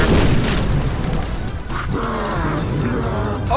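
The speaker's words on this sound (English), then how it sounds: "Place a bomb there." Bomb explosion in The Binding of Isaac during a fight against Satan, a loud booming blast at the start that decays into a rumbling tail, with game sound effects continuing afterward.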